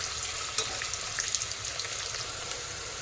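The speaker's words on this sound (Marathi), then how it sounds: "तांबूस रंगावर परतून घ्यायचा आहे" Onion sautéing in oil until golden brown for chicken khichdi: a faint, steady crackling sizzle with light, occasional stirring ticks, heard alone without speech.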